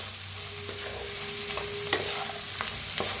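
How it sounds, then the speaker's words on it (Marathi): Potatoes frying in a pan for a South Indian-style potato bhaji are stirred, giving a steady sizzle with a few soft scraping strokes and spoon clicks, close and moderately loud. "बटाटोला बी मिक्स करून घेऊया."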